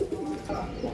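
A Punjabi pigeon of a Rocket bloodline coos nearby, a few low, throaty rolling calls in quick succession, fairly close and unaccompanied by speech.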